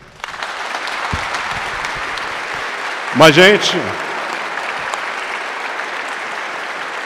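Audience applause at a Dia das Mães talk on love, spiritism and magnetism: steady, full clapping from a crowd throughout, with a brief voice rising over it midway.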